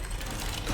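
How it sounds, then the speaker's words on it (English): A door lock mechanism engaging in the game SOMA, a short burst of dense mechanical clicking and grinding, loud and close with no one speaking. "Door locks."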